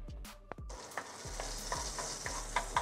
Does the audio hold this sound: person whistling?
no